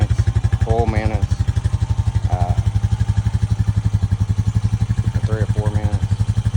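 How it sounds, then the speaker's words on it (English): A 2025 Honda Rancher 420 ATV engine runs close by with a steady, rapid putter and a firm low throb, while someone talks over it at intervals. "start throttling the RPM, get that engine temperature up, and then gradually, like I said, vary the RPM range"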